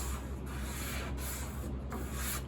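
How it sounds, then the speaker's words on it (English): Sandpaper rubs down the finish on an 1867 Chickering 33B piano during a conservative restoration, with steady close-up back-and-forth strokes repeating in a rhythm and no talking. "Sanded down like this."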